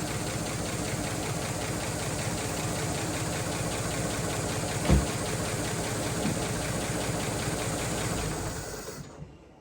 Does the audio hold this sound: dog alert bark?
no